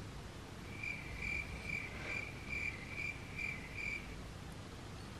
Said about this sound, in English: No comment. Crickets.